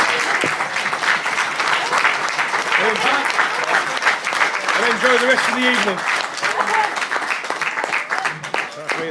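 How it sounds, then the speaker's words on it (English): Guests at a wedding reception keep up steady, full applause after the speeches, with a voice and some scattered cheers and chatter audible over the clapping. "Round of applause for Brian."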